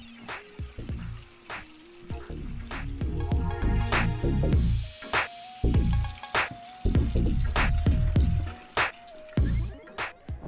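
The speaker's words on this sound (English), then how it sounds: "Cover the chicken wingettes with cool or cold water and the white distilled vinegar." Cold water and white distilled vinegar are poured over chicken wingettes in a kitchen, giving a steady splashing, trickling pour with clinks and drips, close and fairly loud.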